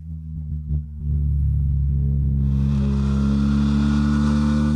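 BMW R1300RT motorcycle engine being shifted manually, starting from quieter low rumbles and then holding a loud, steady mid-pitched drone with strong harmonics, close up, with no voices over it.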